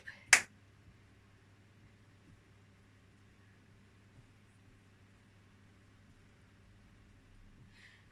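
A single sharp hand clap near the start, then near silence with a faint low hum and a soft rustle at the end.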